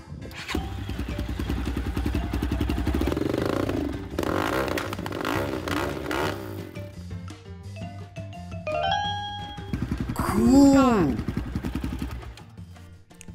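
A toy cross bike motorcycle starts up and revs with clattering mechanical noise and rising whines, followed by a brief rising and falling sweep. People talk and react over it.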